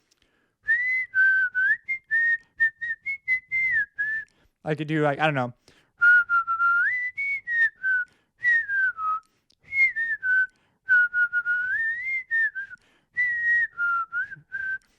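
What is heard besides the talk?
person whistling a tune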